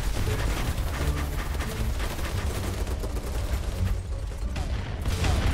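Gunfire in BattleBit Remastered, a Roblox shooter game, comes as loud, dense and continuous automatic fire with overlapping bursts throughout.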